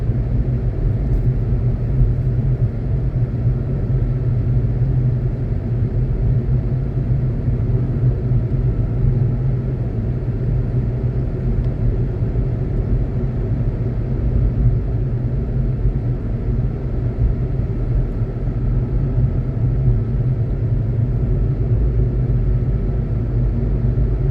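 A car rolls slowly along a quiet town road in New Mexico, heard from inside as a steady, even low engine and road rumble that carries on unchanged throughout.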